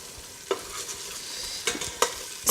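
Spaghetti jollof base with meat stock frying in a pot gives a steady soft sizzle, with a few sharp stirring clinks and scrapes against the pot near the end.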